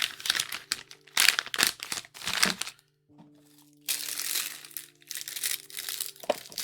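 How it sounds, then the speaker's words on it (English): Crinkly plastic packaging from a MecRob steampunk spider model kit is handled close up in several bursts of rustling and crackling, with a quiet pause midway and a faint hum underneath. "Plastic thing that I'm assuming the screwdriver was in"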